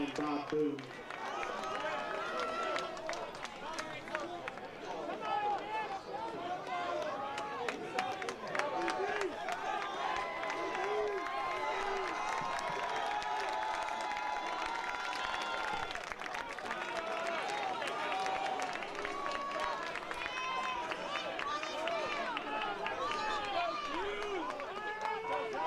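A large crowd roars and cheers continuously throughout a well-attended men's college lacrosse game between Elmhurst and Illinois Wesleyan, a dense, sustained wash of voices from the stands.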